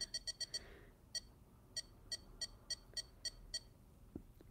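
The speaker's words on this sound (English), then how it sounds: "the beeping sound sounds slightly lower, maybe" An anime-themed tamagotchi toy beeps in quick high electronic chirps, a fast burst of five at the start followed by about eight more spaced presses, faint and close with no talk.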